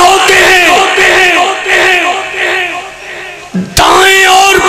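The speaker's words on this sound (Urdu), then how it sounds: "دائیں اور بائیں جانب سے یہ نعرے لگ رہے ہوتے ہیں" A large crowd at a political speech chants slogans in loud, rhythmic, repeated shouted bursts, up close and filling the space, with a brief dip before the chanting surges back.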